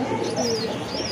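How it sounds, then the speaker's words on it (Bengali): A pair of Danish pigeons cooing close by, soft low coos with light chirps over a noisy background. "প্রথমে আমরা শুরু করতেছি এক জোড়া কবুতর দিয়ে।"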